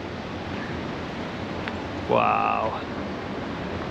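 A waterfall at Saltó del Usero in a ravine in Murcia gives a steady, even roar of rushing water throughout, with a person briefly exclaiming over it.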